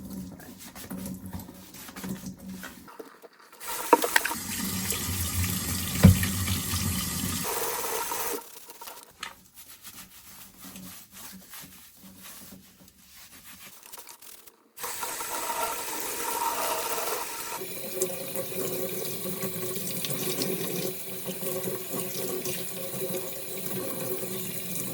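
Tap water runs steadily while a Dyson WashG1 floor cleaner's parts are rinsed under a sink, a continuous hiss that cuts out and restarts with a louder, fuller gush partway through, with faint clatter and no voices.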